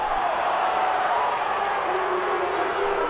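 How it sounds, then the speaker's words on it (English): A large boxing crowd reacts right after a knockout, a dense, sustained roar of murmuring and groaning voices filling the arena at close range, steady and loud throughout with no single voice standing out. "Hearing the disappointment of the crowd at this knockout was the worst experience of Jack's life"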